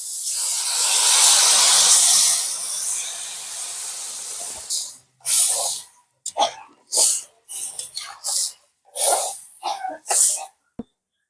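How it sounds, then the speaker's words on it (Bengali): Hot water poured into vegetables frying for a fish curry, giving a loud, broad hissing burst of steam and sizzle for about four seconds, close by, followed by short separate bursts of sound. "এই গরম জল এখন তরকারির মধ্যে দিয়ে দেবো"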